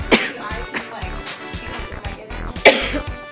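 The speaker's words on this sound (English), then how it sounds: "Oh, my coughing." Indoors in a hotel room kitchen, a person coughs repeatedly in short dry bursts with throat clearing, loud and close, with brief breathy sounds between.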